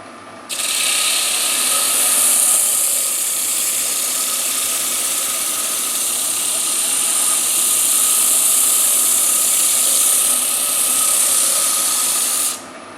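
A wooden bowl is sanded with a rotary sanding tool. A bright, steady abrasive hiss with a mechanical whir starts abruptly, holds loud and close for about twelve seconds, then cuts off.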